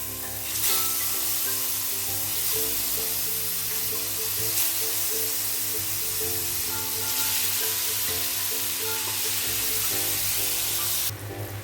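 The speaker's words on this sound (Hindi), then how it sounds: "हम एक एक करके पनीर फ्राई करके ले लेते हैं।" Masala-coated paneer pieces frying one by one in hot oil for paneer tikka masala, a steady dense sizzle running throughout, close and loud, with faint stirring and no talk.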